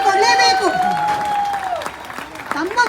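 Audience at a Kannada stage skit breaks into applause and some cheering, a broad crowd clap heard under a sustained tonal sound and voices, fairly loud throughout.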